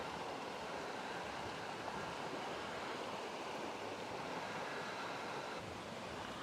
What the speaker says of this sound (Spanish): Miren el río, gente.